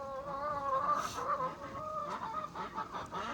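Healthy chickens in a deep-bedding coop shared with ducks cluck steadily and close by, several birds overlapping in a continuous murmur of short calls.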